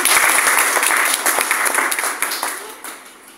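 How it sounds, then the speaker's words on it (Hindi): An audience at an organised event claps for a woman being honoured, a burst of many hands that starts strong and gradually thins and fades toward the end. "तो मैं मैम के लिए भी एक बार जोड़ा तालियां बजाना चाहूँगी"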